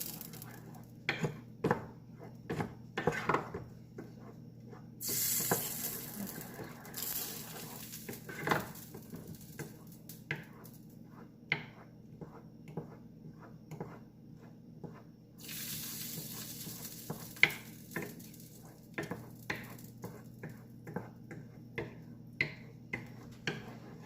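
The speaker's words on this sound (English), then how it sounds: "Going to mix everything and let it kind of boil together." A spicy chilli dipping sauce is stirred as it boils in a pot, with repeated light utensil clinks and taps against the pot and two longer bursts of hissing bubbling.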